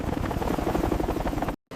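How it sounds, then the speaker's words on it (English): Extraction helicopters hover low over a port at night, their blades chopping in a steady, loud, rapid pulse that fills the sound before cutting off abruptly. "Extraction choppers hover low, their powerful blades chopping loudly through the humid night air."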